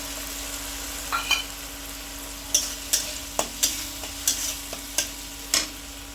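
Ginger garlic paste going into softened tomatoes in a pan for spinach dal, a soft low sizzle broken by a series of sharp spoon taps and stirring knocks, evenly spaced and close.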